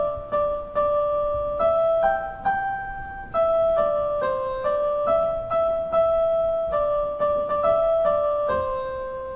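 The Mary Had a Little Lamb melody rings out on a bright, piano-like instrument, a simple sequence of clear single notes in steady rhythm that each decay before the next, moderately soft with no voices.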